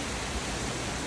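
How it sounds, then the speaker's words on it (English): Heavy rain falling outside a hospital consulting room in Ghana, a steady dense broadband hiss that stays constant and fairly loud throughout, with no voices. "It's raining quite heavily."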